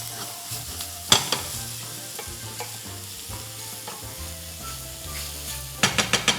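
A mushroom and garlic mixture sizzles in a frying pan with browned onions, a continuous hiss under repeated spoon scrapes, ending in a quick cluster of louder clattering stirs.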